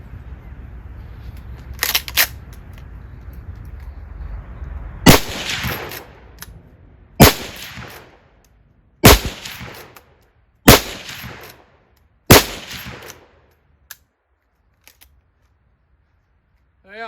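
A Mossberg 464 lever-action rifle fired five times at steady intervals, each sharp loud crack followed by metallic clacks of the lever cycling and ejecting cases, outdoors with quiet gaps between shots.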